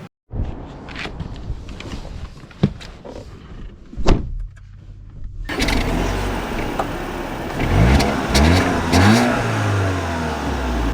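A 2025 Audi A4 Premium Plus S-Line accelerating from inside the cabin: quiet idle and a few clicks, then a loud, steady engine rise with climbing revs and road roar that builds and holds.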